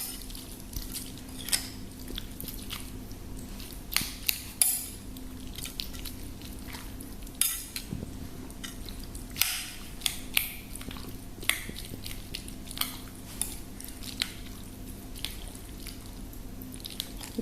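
Noodles and chicken being stirred in a bowl, giving soft wet squishing and clinking sounds at irregular intervals, close and fairly quiet, with no talking.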